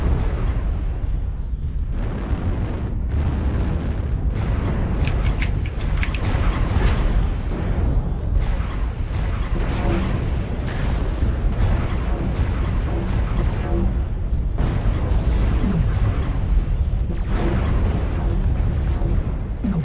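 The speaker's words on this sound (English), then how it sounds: "Artillery at the gate opening" Artillery strikes in MechWarrior Online hit near a gate opening, a dense run of booming explosions and bursts rolling almost continuously for twenty seconds, loud and close with no clear gaps.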